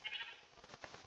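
A sheep in a video game gives a single wavering bleat, fairly close but quiet, with no talk over it.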